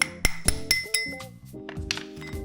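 Metal parts clinking and knocking as the ring gear comes off a Toyota TownAce differential during disassembly, several sharp metallic clinks at first, then ringing, rattling clatter, close and fairly loud, with no talk.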